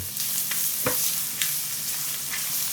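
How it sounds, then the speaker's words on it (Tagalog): Onion and garlic sauté in a hot pan with a steady soft sizzle, punctuated by a few brief scraping stirs; fairly quiet and close, with no talking. "Next, maggisa tayo ng sibuyas. Sunod naman yung bawang."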